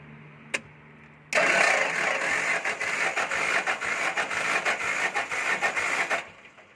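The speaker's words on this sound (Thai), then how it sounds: "เดี๋ยวลองสตาร์ท สวิตช์กุญแจนะครับ เผาหัวเล็กน้อยนะครับ เร่งคันเร่งนะครับ" An Iseki TS2205 tractor diesel starts on the key switch after a brief glow-plug preheat. A single click comes first, then the engine catches and runs loudly up close with a rough, steady clatter for several seconds before cutting off.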